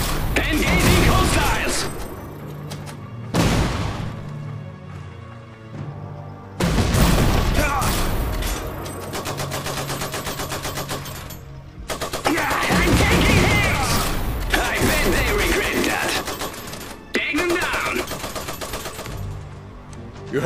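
Mech units firing their weapons in the game Iron Harvest during a stronghold siege, with loud bursts of rapid automatic fire and heavy booms coming in several long salvos, broken by short pauses.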